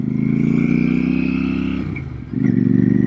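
A Royal Enfield Super Meteor 650 with belt drive, an air- and oil-cooled parallel twin, rumbles steadily while riding, its low engine note dipping briefly as if shifting before pulling again.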